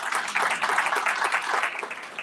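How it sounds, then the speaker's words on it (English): An audience claps for Brian at an economic development breakfast, a steady dense wash of many hands that holds evenly for a couple of seconds with no talk over it. "Again, let's give Brian a round of applause."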